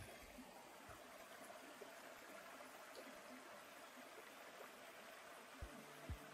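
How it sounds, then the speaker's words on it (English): A fast-moving little creek on Isle Royale, seen from a sturdy trail bridge, gives a steady broadband rush of flowing water throughout, with a couple of brief low thumps near the end. "Nice little fast moving creek."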